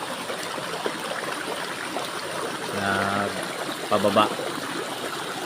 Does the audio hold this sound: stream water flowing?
yes